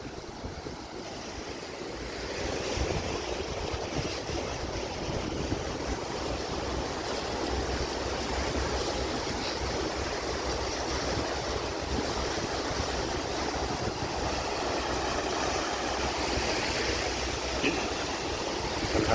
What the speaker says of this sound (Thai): ลุยน้ำอีกแล้วพี่น้อง